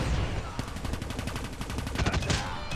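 Cordite submachine gun firing in Call of Duty Mobile, a rapid steady burst of sharp shots lasting almost three seconds over busy game noise.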